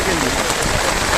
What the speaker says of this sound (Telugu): జోరుగా వాన పడుతోంది